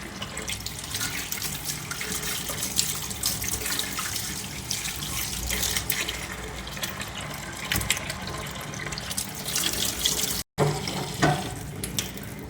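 Tap water runs steadily into a sink while fish is washed in a kitchen, a continuous splashing rush with small clatters, briefly cut off near the end before resuming.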